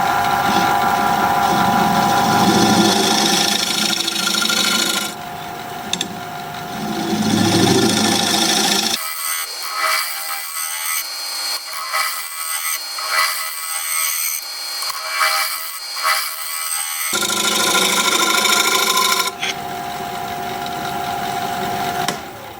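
Scraping cuts on a wood turning lathe, a steady rasping scrape over the spinning workpiece broken by quieter gaps where the tool lifts off, with the lathe's hum continuing underneath.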